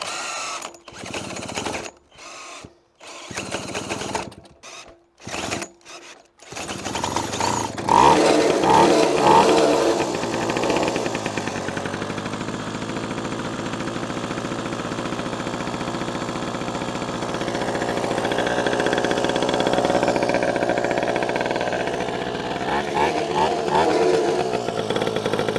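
An old Ducati motorcycle, over forty years old, with a few sputtering cranks and false starts, then the single engine catches and settles into a steady, loud, close idle that rises and falls slightly.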